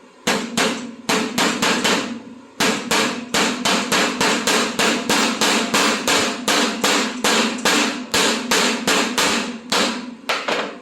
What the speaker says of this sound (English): I just put this against a flat, hard surface and tap that outside edge down